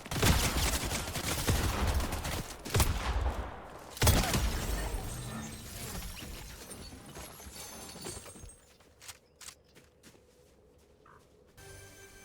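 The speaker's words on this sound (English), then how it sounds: "Just giving him a warning shot, 20 times in a row." Rapid gunfire in the Fortnite video game, a loud dense burst of repeated shots for about eight seconds, then sparser scattered pops and quieter game sounds near the end.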